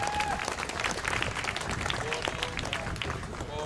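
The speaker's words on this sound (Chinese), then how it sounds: "我们鼓掌欢迎一下桃园来的阿恒" A television studio audience applauds to welcome a contestant from Taoyuan on a comedy show, a crowd of clapping hands heard under lively talking and some musical tones.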